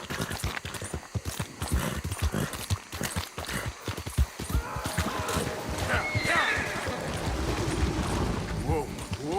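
Horse hooves clip-clop at a steady walking rhythm in a Western-style video game, close and moderately loud, with a brief whinny, under a man's spoken commands to the horse.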